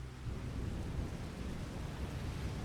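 Thunderstorm in Farming Simulator 25 over open farmland, a steady low rumble of wind and rain with rolling thunder throughout, with no talking.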